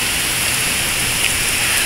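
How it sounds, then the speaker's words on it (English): Heavy tropical-storm rain pours in a steady, dense hiss that fills the whole stretch evenly and loudly, with no voices or breaks. "Thought that the heavy rain is over, people, but nope, it's not over"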